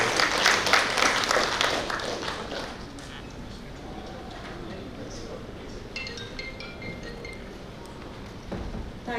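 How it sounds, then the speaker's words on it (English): Audience applause greets a speaker arriving to address a hall of accountants, loud crowd clapping filling the first few seconds before fading into quieter room murmur with faint clinks and movement. "Please join me in warmly welcoming her with a round of applause."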